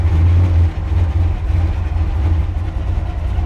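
A barn-find muscle car's engine roars loud and close during a burnout at a drag strip, a dense low rumble that holds steady throughout.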